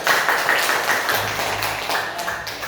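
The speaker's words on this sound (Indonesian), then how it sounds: "beri tepuk tangan untuk Bapak" Audience applause for someone speaker at the close of a question-and-answer session at an Indonesian gathering: a steady wash of many hands clapping that carries on through the whole stretch, fairly loud and even, with no voices over it.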